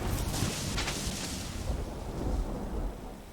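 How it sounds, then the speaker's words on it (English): Thunder rolls and rumbles through a steady wash of rain in a storm in the farming game Farmers Life, loud and continuous with a sharper crack near the start. "Another storm."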